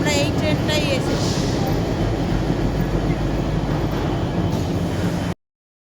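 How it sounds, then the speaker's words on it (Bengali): A train at Mumbai station gives a loud, steady rumble of rolling wheels and carriage noise for about five seconds, heard close and continuous before it cuts off abruptly. "এই যে আমরা এই ট্রেনটাই এসেছি"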